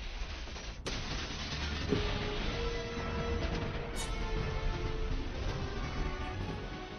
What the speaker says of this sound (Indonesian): Ethan pun meledakkan tempat tersebut menggunakan permen karet peledak